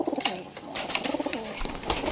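Pet pigeons on a rooftop coo in repeated low, throaty calls, close and clear, with wing flutters and light ambient noise around them.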